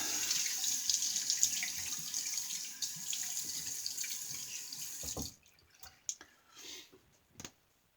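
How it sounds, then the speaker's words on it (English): Water runs from a tap while a Yaqi Final Cut brass-handled razor is rinsed beneath it, a steady hiss that cuts off, leaving a few drips and small splashes. "let's get a quick rinse"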